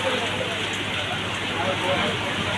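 Rain falls outdoors during a Ram Navami celebration in Bhadrak, a dense, steady hiss of drops with faint background voices.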